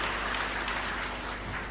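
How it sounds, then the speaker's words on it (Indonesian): A church congregation applauds in a brief, steady burst of clapping that fills the room at moderate volume. "Sekali lagi kita berikan tepuk tangan yang meriah buat Tuhan Yesus."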